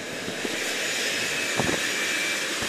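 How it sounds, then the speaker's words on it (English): Cargo plane engine drones steadily and loudly inside the aircraft, a constant broadband roar with a faint whine, with a couple of brief thumps over it. "this is a cargo plane"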